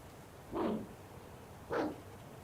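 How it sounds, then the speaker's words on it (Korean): Two short dog barks from the game A Week, spaced about a second apart, moderately loud over a quiet background with no talking. "강아지 짖는 소리도"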